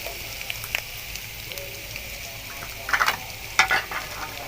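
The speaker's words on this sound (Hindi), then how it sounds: "लो फ्लेम के ऊपर लहसुन को इतना सा भूनेंगे बस कि इसका कच्चापन ख़त्म हो जाए।" Garlic fries gently in a pan over a low flame for macaroni, a soft steady sizzle with occasional brief crackles and stirring scrapes near the end.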